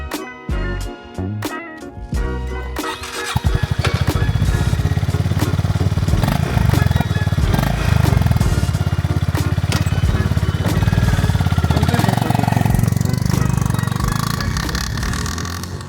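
A Honda GB350S motorcycle thumps steadily and loud while being ridden on Dutch country roads, its single-cylinder engine note continuous after a few brief clatters and bumps at the start.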